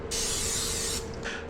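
Close aerosol cooking spray misting over breaded chicken for a spicy crispy sandwich, one long steady hiss followed by a shorter second burst, with no voices.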